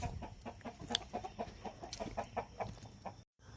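Chickens cluck in quick, scattered bursts close by, with busy barnyard noise throughout and a brief silent gap near the end.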